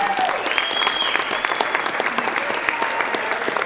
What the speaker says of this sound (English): they all deserve their own round of applause